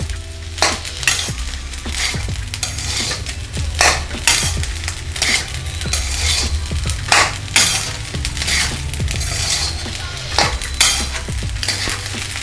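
Egg rice with orange and green food colouring being stirred in a pan, a steady scraping and clinking of the spoon against metal repeating in bursts over a low continuous sizzle, close and fairly loud.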